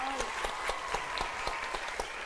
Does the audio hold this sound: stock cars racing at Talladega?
no